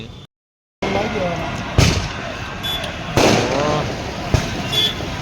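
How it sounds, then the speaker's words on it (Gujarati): Firecrackers burst at a family gathering, several sharp cracks at irregular intervals cutting through a busy background where people are talking. "ફટાકડા ફૂટી ગયા છે અહીંયા."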